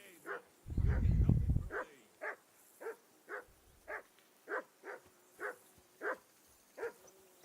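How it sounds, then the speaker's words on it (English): In the medieval game Kingdom Come: Deliverance 2, a dog barks in a steady series of about a dozen evenly spaced, moderately close barks after a brief low rumble at the start. "Call off that mutt of yours."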